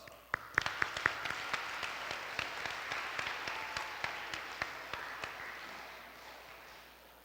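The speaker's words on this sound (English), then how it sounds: "Please, a round of applause." An audience applauds to welcome Dr. Anthony Yen, Confucius Institute board chairman, at a Teacher Appreciation Day event, with loud individual claps standing out over steady clapping that slowly fades.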